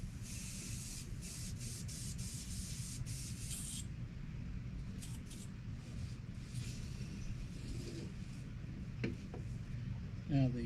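A steady airbrush hiss sprays continuously at close range, with brief pauses and bursts near the start, over a low background rumble.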